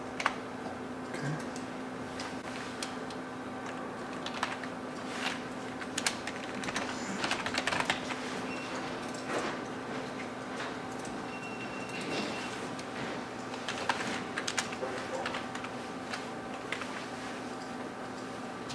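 Keys tapped on a computer keyboard while login details are entered, giving an irregular run of light, close clicks over a steady background hum.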